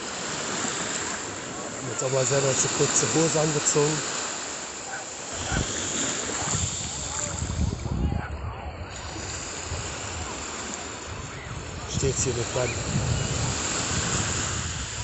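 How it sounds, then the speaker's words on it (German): Mediterranean Sea waves wash onto the shore, a rushing surf with gusts of wind noise, heard close by while someone talks over most of it. "am Wellengang des Meeres hier. Mittelmeeres."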